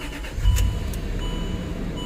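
A 2008 Land Rover Range Rover Sport, suffering dash warning lights and lost-communication fault codes, cranks briefly and catches, then settles into a steady, moderately loud idle close by.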